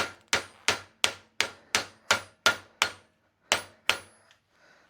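An Estwing hammer taps a ratchet head down into place while it is held in a vise, about a dozen sharp metallic knocks in a steady rhythm, close and alone.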